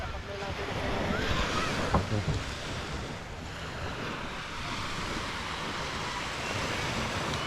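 Ocean waves wash and surge continuously, a broad hiss of surf mixed with wind noise across the microphone.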